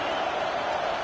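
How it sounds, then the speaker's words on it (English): A football stadium crowd roars to support the defense, a dense, sustained wall of cheering that holds steady and loud for a moment. "Listen to this crowd just shaking the girders of this place, trying to help their defense."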